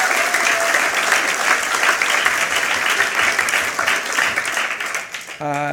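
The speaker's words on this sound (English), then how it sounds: "Can we give a big round of applause?" Big round of applause from the audience at a United Nations HeForShe event, a loud, dense wash of clapping sustained for several seconds before tapering near the end as a voice begins.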